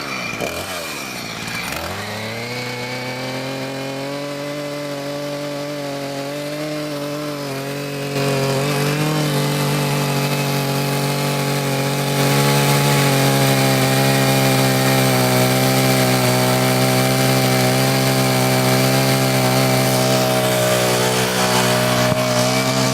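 A chainsaw starts up and roars loudly and continuously, its engine pitch rising as it bites into wood and keeps cutting at full throttle.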